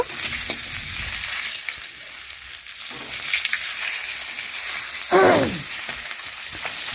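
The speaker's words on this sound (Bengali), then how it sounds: "এক পাশ ভাজা হয়ে গেলেই আমি আর এক পাশ দেখুন মাছের মাথাগুলো" Fish heads sizzle in hot oil in a frying pan, a steady close crackling hiss throughout, with a brief louder burst of spitting near the end and no voices.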